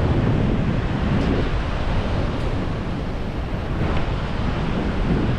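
Steady ocean surf washes continuously on a shore as the tide comes in, a broad, loud roar mixed with wind buffeting the microphone, with no voices.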